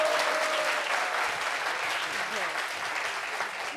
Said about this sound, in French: Applaudissements pour le syndicat.